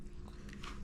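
Someone chews food in a brief, quiet moment, with soft bites and mouth sounds over a low background murmur.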